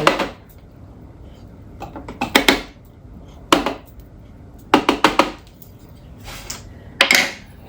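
A spatula scraping butter-cooked shallots out of a pan for chicken liver pâté, heard as a handful of short, sharp scrapes and clinks in bursts with quiet gaps between, close and fairly loud, with no talk.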